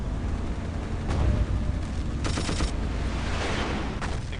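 Tank-mounted machine gun firing in the game Battlefield 1942, short rattling bursts over a constant low engine rumble, with a brief burst near the middle and a denser one shortly after.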